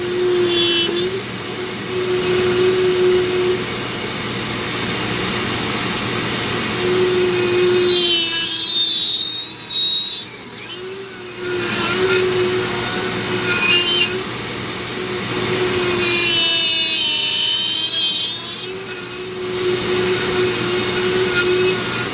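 A Dremel rotary tool with a burr carves a fairy castle from soft material, giving a loud, continuous close whine that dips and shifts pitch as the bit bites in, with brief drops in intensity and no talking.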